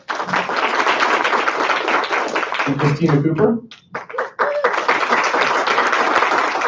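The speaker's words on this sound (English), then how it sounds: "Yes, big applause." Audience applause for board members being introduced at a 2018 conference, steady dense clapping filling most of the stretch, briefly dropping away around a spoken name before surging back loud; a voice talks over it.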